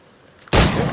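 A single loud, close firearm shot in Assassin's Creed 4 Black Flag, a sharp blast after a quiet moment that rings out for a short tail.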